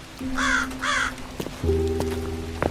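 A raven gives two harsh, loud caws close by, followed by softer rough croaks and clicks amid quiet surroundings, with no talking.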